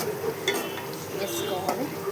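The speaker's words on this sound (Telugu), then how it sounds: "ఫ్రెష్ బెండకాయ, అల్లం, పసుపు వేసుకొని బాగా కలుపుకోవాలి." Fresh okra with ginger and turmeric being stirred in a pan, soft scraping and light sizzling at low level with faint background voice.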